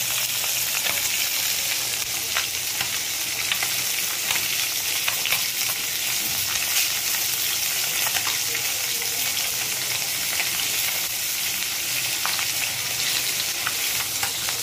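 Fish fry in hot oil for a curry, giving a steady, loud, dense sizzle with crackling pops that runs unbroken throughout, no voices.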